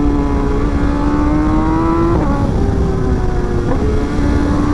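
A 2024 BMW M1000XR sport motorcycle, a 210-horsepower machine, runs with a loud, close engine drone that climbs steadily in pitch, with brief gear-shift dips, no voices.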